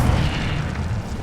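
An Incendio fire spell in Hogwarts Legacy erupts as a short, heavy whooshing boom, loud and close, with a rumbling low roar that holds steady for about a second.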